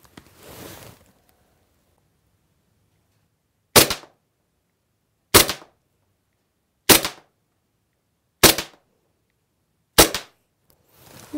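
A KWA M9 gas airsoft pistol fires five sharp, loud shots at a target, evenly spaced about a second and a half apart, with near silence between them and no talking.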